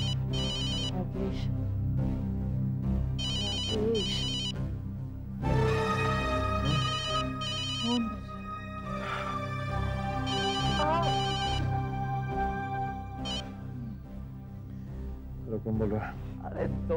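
A telephone rings loudly in a Hindi TV drama scene, its repeated electronic trill pulsing in clear bursts over music, with occasional voices.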